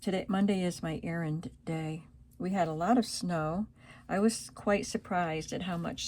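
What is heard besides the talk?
No everyday noise stands out behind the speech.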